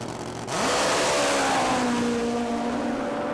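Top Bike drag racing motorcycle with roughly 1,500 to 2,000 horsepower at Willowbank Raceway, its engine roaring loud and close, pitch climbing steadily after a sudden surge and holding a sustained, high-revving howl throughout.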